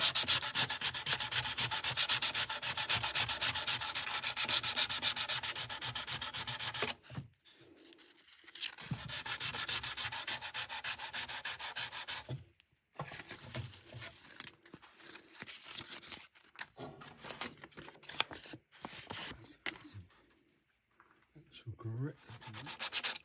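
Wood hand-sanded with sandpaper wrapped around a wooden sanding block while chamfering the inner edges of a 7-string lyre: repeated close scratchy strokes in bursts, broken by short pauses.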